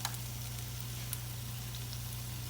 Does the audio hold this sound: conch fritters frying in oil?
yes